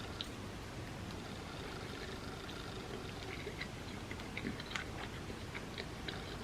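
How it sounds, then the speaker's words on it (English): Close, quiet chewing and soft biting of a vegan parmesan pesto risotto, with small wet clicks and smacks running steadily over a dense, noisy room background, no talking. "now I'm going to dig into some of this risotto"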